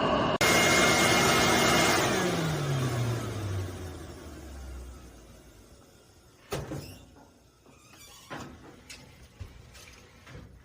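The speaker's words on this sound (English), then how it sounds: "right now the blower is what's pushing the air" A dryer vent blower pushes air through ducting with a loud roaring whoosh that winds down, its pitch falling steadily until it fades out, followed by scattered knocks and clatter of metal vent parts nearby.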